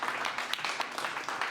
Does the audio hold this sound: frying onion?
no